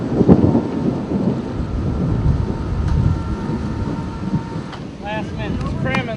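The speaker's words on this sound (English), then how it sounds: "I just told Whacker, nothing eases your nerves like the threat of an oncoming thunderstorm" Low rumbling thunder from an approaching thunderstorm rolls continuously throughout, broad and heavy with a sharper crack near the start and faint higher chirping sounds toward the end.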